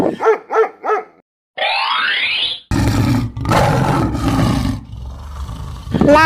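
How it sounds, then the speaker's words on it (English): A lion roars in a long, loud, rumbling call that swells and fades over several seconds, following a few brief barks and a bleat. No talking. "Lion."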